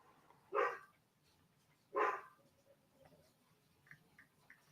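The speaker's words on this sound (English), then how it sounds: "He's barking. I don't know if you guys could hear him. He's barking his ass off." A dog barks twice, sharp and separate about a second and a half apart, heard from a short distance in an otherwise quiet room, followed by faint small noises.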